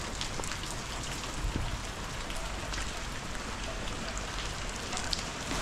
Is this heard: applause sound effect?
no